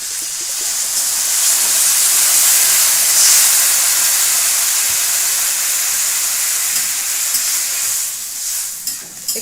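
A splash of water hits a hot pan of Bengali potato korai chochchori and erupts into a loud, sustained steamy hiss that slowly eases, ending with a few stirring scrapes.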